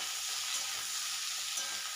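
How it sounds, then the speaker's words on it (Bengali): Carrots, beans and capsicum sizzle steadily in a hot pan over high flame, a continuous close frying hiss with soft stirring movements and no voices. "গাজর আর বিনসগুলো সব দিয়ে দেওয়ার পরে ক্যাপসিকামের সঙ্গে হাই ফ্লেমেই আমি এগুলো নাড়াচাড়া করে নিলাম"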